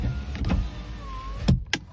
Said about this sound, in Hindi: गाड़ी का पावर विंडो एकदम बिल्कुल फ्री काम करने लगा